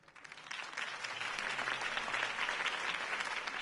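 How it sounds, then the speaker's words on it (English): Crowd applause in a Batman video game, rising in and holding steady, a dense wash of many hands clapping with no voices on top. "could have heard that applause"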